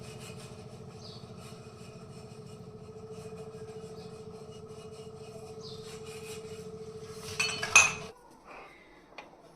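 Dishes and pots clinking and rubbing during washing in a home kitchen, with scattered metallic clinks over a steady low hum, growing louder with a cluster of sharper clatters near the end.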